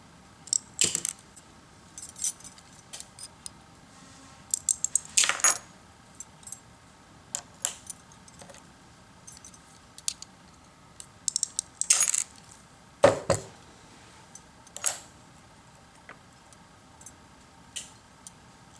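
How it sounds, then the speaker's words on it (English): Glass nippers snap off the ends of fused glass pieces, a handful of sharp, close clicks spaced irregularly across a quiet workbench. "take my nippers and just nip these ends off"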